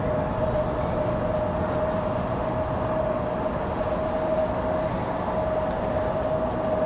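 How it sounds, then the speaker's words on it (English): CRJ jet taxiing at Raleigh-Durham International Airport at night, a constant distant engine rumble with a steady whine, heard alone. "As our CRJ finally gets a move on"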